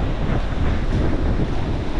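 Rough sea surf at Puka Beach, Boracay: a loud, steady roar of breaking waves mixed with heavy wind buffeting, continuous with no voices.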